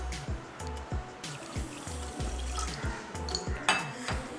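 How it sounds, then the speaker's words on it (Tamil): Half a cup of water poured onto sugar in the inner vessel of a pressure cooker, a soft trickle with repeated low clinks and knocks of the pot, fairly quiet and close. "அரை கப் தண்ணி ஊற்றிக்கலாம்."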